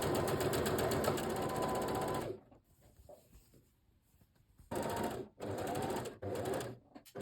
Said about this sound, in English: we can sew up these seams using the 1 centimetre seam allowance